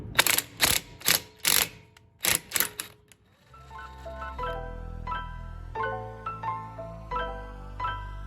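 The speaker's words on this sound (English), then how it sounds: "you take your proper size and you just torque it down" A hand ratchet tightens the wheel lug nuts on an LS3-swapped Subaru BRZ in several fast, close clicking bursts, then gives way to steady tonal music.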